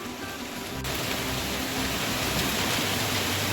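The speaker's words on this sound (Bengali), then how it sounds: "সেই আওয়াজটা কিন্তু এই যে বৃষ্টির আওয়াজ।" Steady rain pours outside a home kitchen, a dense, even hiss that swells after the first second and continues unbroken and fairly loud, with no talk.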